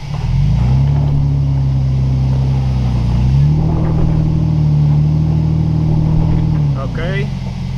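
An off-road vehicle engine on a tough uphill climb holds a loud, steady low drone, then revs higher mid-way and drops back as it pushes forward, with brief faint talk near the end.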